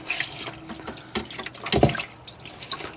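Fan parts from a Maxxfan being washed by hand in a basin of water, with irregular sloshing, splashing and dripping at close range, plus a brief louder splash partway through and no talk.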